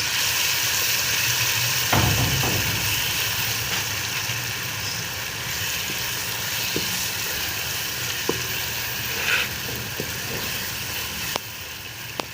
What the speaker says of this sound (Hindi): इसकी भुनाई कर लेंगे, अच्छे से इसको भून लेंगे।